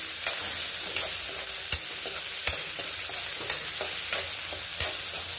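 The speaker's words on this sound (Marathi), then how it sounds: "त्याच्यानंतर मी कांदा परतून घेणार आहे, व्यवस्थित" Onion being stirred and sautéed in a pan for village-style baingan bharta, with steady frying sizzle and regular spoon scrapes against the pan about once a second, close and moderately loud, no talking.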